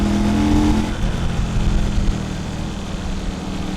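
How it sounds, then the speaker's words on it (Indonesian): A WMOTO Morbius 250 motorcycle engine runs smoothly with a soft exhaust note, steady and fairly loud up close, with a brief rev at the start that settles into an even idle. "Suara mesin halus banget, bahkan suara knalpotnya juga terlalu halus sih kalau menurut gua."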